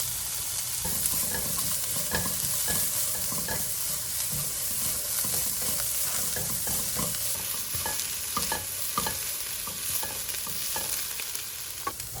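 Onions stir-fry over fairly high heat in a pan for japchae, a steady loud sizzle broken by frequent scraping and tapping of the spatula, with no voices.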